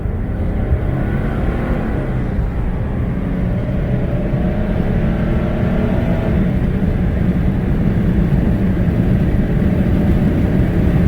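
A high-mileage Mercedes-Benz E300 diesel accelerating from 0 to 60, heard from inside the car as a loud, continuous low engine drone and road rumble that rises steadily in pitch.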